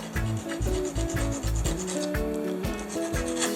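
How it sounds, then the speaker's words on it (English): A hand file rasps back and forth over the threads of a broken bolt, giving a steady run of loud, rhythmic scraping strokes up close with no talk. "I'm going to see if I can gently file off the threads a little bit to give them a little bit of a taper"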